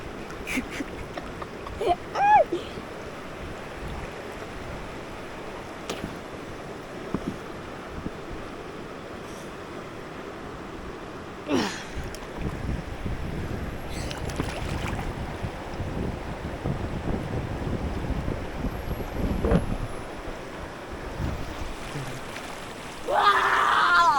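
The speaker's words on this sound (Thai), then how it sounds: "บรรยากาศน้ำไหลท่านผู้ชม" Water flows outdoors where people are fishing, a long steady wash broken by gusts of wind buffeting the microphone and a few sharper splashes and knocks, with no voices heard.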